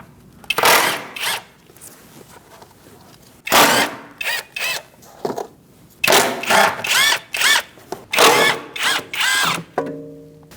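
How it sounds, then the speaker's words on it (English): Fender liner fasteners on a 2008-2014 Mercedes-Benz C300 being run out with a power tool fitted with a 10mm socket, heard as close, loud whirring bursts of about a second each, repeated with short pauses between. "Using a 10mm socket,"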